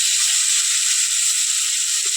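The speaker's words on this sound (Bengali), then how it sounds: "কড়াইয়ের মধ্যে সাদা তেল ফেলে দেবো মাছটা ভেজে নেওয়ার জন্য" Fish frying in hot white oil in a wok, a steady bright crackling hiss that holds evenly throughout with no voices.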